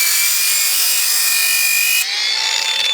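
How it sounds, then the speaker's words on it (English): A variable speed grinder cuts into floor tile at low speed, giving a continuous, loud, high abrasive whine that drops in pitch near the end, with no talking. "This is a variable speed grinder, so it goes very slowly."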